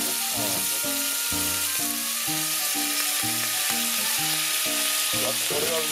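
Jerk chicken fries over high heat in a pan, giving a steady, loud sizzle that runs through the whole stretch beneath a prominent melodic music track.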